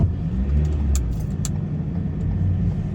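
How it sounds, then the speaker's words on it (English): A car driving downhill on a snowy road toward the Russian border gives a steady low engine and tyre rumble from inside the cabin, droning evenly with a few faint clicks and no talking. "We're going to drive all the way down to the bottom."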